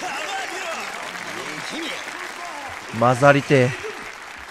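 Applause from a hostess-club crowd in the Yakuza 0 video game rolls on as a soft, continuous patter under a voice that speaks briefly near the end.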